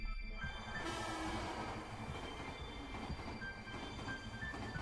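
A train roars past in the visual novel SeaBed, a loud, continuous rumbling rush with a high metallic whine running through it for the whole stretch, with no voices.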